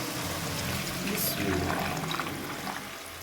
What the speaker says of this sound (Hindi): अब हम इसमें ऐड करेंगे जो हमने बेसन और दही की लस्सी फेंकी थी